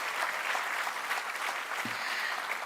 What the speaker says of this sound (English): A good round of applause to Honorable Bhasin sir.